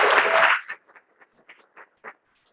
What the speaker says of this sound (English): let's have a big applause for Dr.